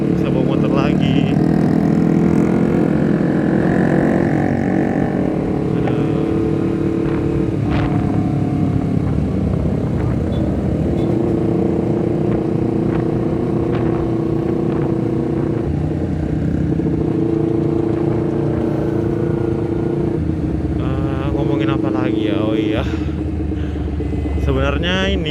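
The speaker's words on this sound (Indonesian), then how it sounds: "Gue jadi seneng bisa bawa motor lagi." A motorcycle ridden at night, its engine droning steadily up close with shifting pitch and wind rush for the whole stretch, while someone talks over it.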